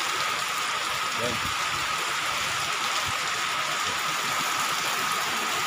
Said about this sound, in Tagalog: Lakas ng ulan. Bagyo talaga. Ayan ang ulan.